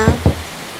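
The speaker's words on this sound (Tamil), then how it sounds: "யாரோ கதவை தட்டுறாங்கங்க" Two firm knocks on a wooden door in a Tamil radio drama, spaced about a fifth of a second apart and close to the microphone, with nothing else following them.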